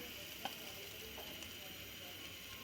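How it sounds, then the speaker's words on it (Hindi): Chopped onions fry in oil in a pan for a mutton pulao, making a faint, steady sizzling hiss with a few soft stirring clicks, quiet and without speech. "ऑयल डाल दिया, प्याज को फ्राई करते हैं।"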